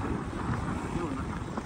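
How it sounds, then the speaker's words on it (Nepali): Wind blows outdoors as a strong, continuous roar buffeting the microphone, with faint voices underneath. "ए हावाले हानिरहेको छ"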